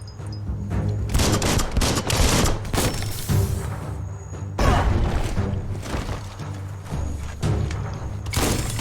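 Bomb lobber weapon in the game Biomutant, throwing out a dense barrage of booming explosions and gunfire-like blasts that go on almost continuously, loud and close, with no voices.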